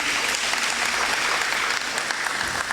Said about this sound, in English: A bigger round of applause